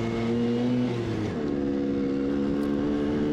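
Car cruising along small country roads between villages, a steady close engine drone with a shift in pitch partway as it changes gear, no voices.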